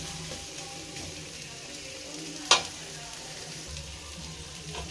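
Cauliflower, potato and green peas frying in a pan for kurma, a steady close sizzle running throughout with one sharp clink of a utensil midway, no voices.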